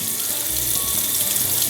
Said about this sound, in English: rinse off this turkey with cool water